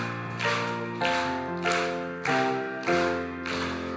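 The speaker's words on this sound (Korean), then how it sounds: "우리 박수하면서" A church congregation claps in steady rhythm, roughly every half-second, along with the instrumental accompaniment to a birthday song during a Sunday worship service. The claps land on the beat over sustained, tonal music.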